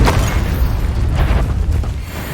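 A Confringo explosive spell blast in Hogwarts Legacy, a loud, deep booming burst that rumbles steadily for a couple of seconds, close and dominating, with no talk over it.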